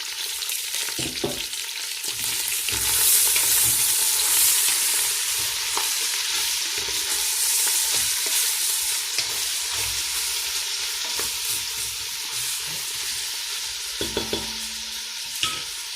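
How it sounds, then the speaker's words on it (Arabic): Onion fries in a pan with a continuous close sizzle and frequent scraping, clattering stirs of a utensil against the pan, a few sharper knocks near the end; no talking. "راني نقلي شوية البصلة"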